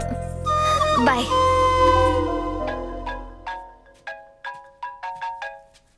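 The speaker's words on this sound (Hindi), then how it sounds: "फोन बज रहा है" A phone ringtone plays a bright melodic tune, followed by a quick series of short, repeated electronic tones.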